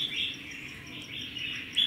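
A red-whiskered bulbul from Laos sings at close range with a steady, bright warbling chirp that has slight rises and falls, ending in a sharper note.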